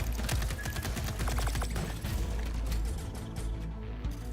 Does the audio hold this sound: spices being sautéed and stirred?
no